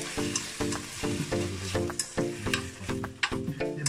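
Bacon, sausages and avocado sizzle in an unoiled pan with a splash of mentsuyu, loud close crackling broken by rhythmic scraping stirs.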